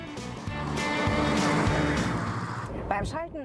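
A Hyundai i20 Active drives with a steady engine and road rumble under continuous talk, the motor holding an even hum throughout.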